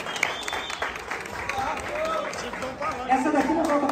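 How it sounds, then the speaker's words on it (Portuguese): Applause from a crowd, a dense wash of clapping with voices heard over it. "palmas pra ele."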